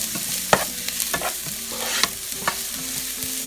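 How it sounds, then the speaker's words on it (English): Onions sautéing in three tablespoons of oil in a pan, with a steady sizzle broken by several distinct scraping stir strokes, close and clear. "So in goes our onions. So saute the onions till they are slightly brown."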